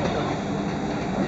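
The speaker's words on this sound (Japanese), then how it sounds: "この電車は15両です。" A train at Kamakura station makes a steady, close rumble and hiss along the platform, with a public-address announcement sounding over the noise.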